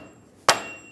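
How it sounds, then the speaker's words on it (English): A dead blow hammer tapping a stub shaft into a 2007-2013 Chevrolet Silverado 1500, a single sharp close strike with a short ringing decay. "take a dead blow hammer"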